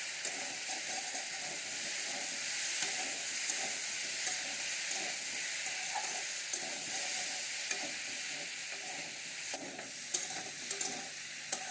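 Koi fish fry in oil in a wok, giving a steady, even sizzle and hiss that holds at a moderate level throughout with no voices.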